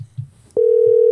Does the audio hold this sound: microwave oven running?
no